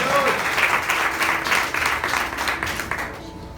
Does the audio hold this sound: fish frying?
no